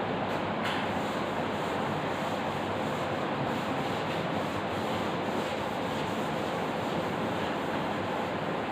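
A chalkboard being rubbed clean with an eraser during a nuclear physics lecture, giving a steady, continuous broadband scrubbing hiss that fills the whole stretch with no talk over it.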